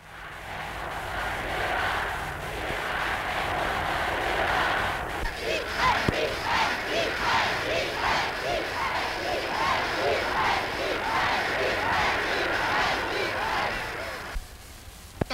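An archival recording of a huge crowd on Vienna's Heldenplatz roars and cheers, swelling into rhythmic, chant-like bursts that pulse steadily for several seconds before fading, distant and dense with a hissy old-recording tone.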